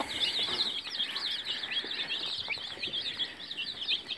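Many small chicks with a brooding hen peep continuously in high, overlapping chirps, a busy steady chorus close by with no talking.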